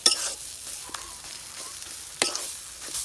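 Taro leaves (kochu shak) being stirred in a pan, a soft steady sizzle broken by a few sharp scraping strokes of the spoon, close and fairly quiet with no voices.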